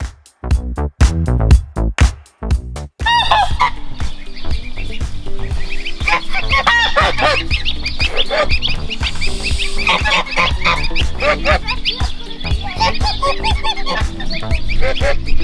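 Geese on a New Zealand homestead honk loudly and repeatedly near the listener, a busy overlapping flock chorus that carries on steadily after a few sharp opening calls.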